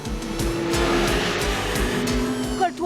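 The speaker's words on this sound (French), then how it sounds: "Le camion accélère." A truck accelerates in a chase, its engine roaring loudly alongside rhythmic thumping and a brief tire squeal near the end.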